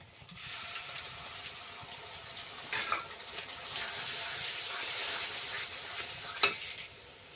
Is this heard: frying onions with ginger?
yes